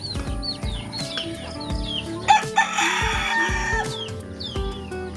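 Chickens cluck steadily nearby while a rooster crows loudly partway through, a busy backyard flock with hens hatched under a turkey, with no talk.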